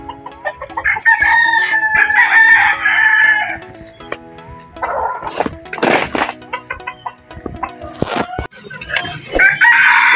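A rooster crows loudly and close by among clucking chickens at a farmyard, with several calls overlapping and a few sharp knocks between them.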